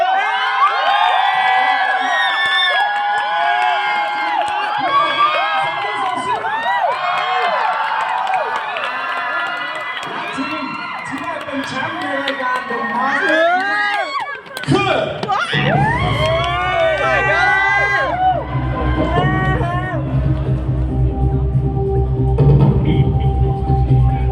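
Loud audience cheering, shouting and whooping for a team at a results announcement on a Thai talent contest stage show, sustained screams and yells that swell and shift, then give way to a low rumbling roar.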